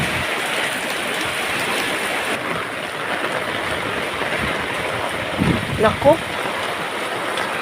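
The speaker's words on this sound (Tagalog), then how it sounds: "Pupunta ako sa ilog." A river flowing outdoors, a loud steady rush of water filling the whole stretch, with a person briefly speaking over it and a few splashy bumps near the end.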